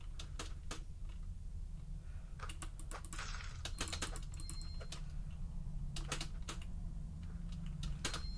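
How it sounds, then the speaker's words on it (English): Loud computer keyboard typing during a rage game, with irregular clusters of sharp clacking keystrokes and rapid bursts over a steady low background hum, no talking. "Sorry if my keyboard's too loud."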